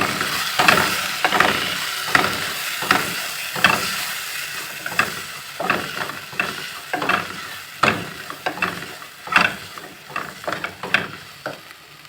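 Spices sauté in a pan for kappa biryani, with ground black pepper going in, as repeated scraping stirs come through between bursts of sizzling, close and rhythmic with no talk.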